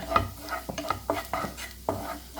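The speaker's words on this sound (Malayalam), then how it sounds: "ഈ ബട്ടറിലെന്നെ ഇട്ട് ഈ കോൺഫ്ലോറും നന്നായിട്ടൊന്ന് ഇതുപോലെ മൂപ്പിച്ചെടുക്കണം കേട്ടോ നന്നായിട്ട് മൂത്ത് വരട്ടെ" Cornflour roasting in butter for an egg dish, stirred with a spoon in a pan, giving a string of distinct scraping and clinking strokes over a soft sizzle, with no voices.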